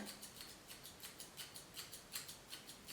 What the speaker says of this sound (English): And then point cutting.